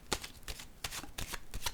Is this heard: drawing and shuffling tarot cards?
yes